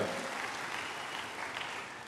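Short burst of congregation applause during a church sermon, a steady wash of many hands clapping at moderate volume with no speech over it.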